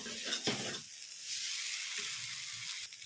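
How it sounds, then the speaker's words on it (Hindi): Spiced tomato masala for eggplant kalonji frying in a pan, a steady close sizzle with brief stirring scrapes near the start and softer stirring knocks later, no talking. "टमाटर को गलने तक मसाले को अच्छे से भूनेंगे।"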